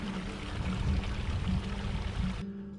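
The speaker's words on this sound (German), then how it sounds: "Hier muss man dann die Flasche halt in den Bach halten." A water bottle held into a stream fills with a steady gurgling pour under the rushing water, close by, then cuts off abruptly near the end. No voices are heard.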